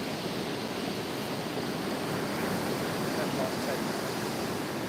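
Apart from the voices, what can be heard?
ocean waves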